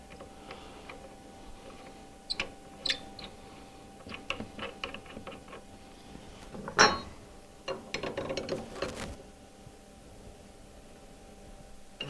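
Router bit being fitted and its collet tightened on a CNC router, giving scattered metallic clicks and ratcheting ticks with a sharper cluster midway, close and fairly quiet.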